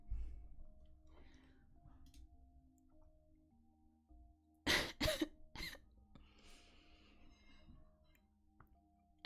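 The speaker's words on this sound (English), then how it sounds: "I had to clear my throat" Someone clears their throat in a few sharp, harsh bursts amid a quiet room, with faint ticking and soft background noise before and after.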